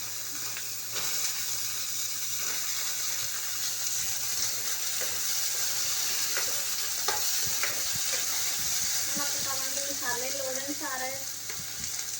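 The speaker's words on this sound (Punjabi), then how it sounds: "ਤੇਲ ਗਰਮ ਹੋ ਗਿਆ ਤਾਂ ਹੁਣ ਵਿੱਚ ਆਪਾਂ ਪਾਵਾਂਗੇ ਆਲੂ" Potatoes frying in hot oil on a stove, giving a steady close sizzle with scattered stirring clatters and scrapes throughout; a faint voice comes in briefly near the end.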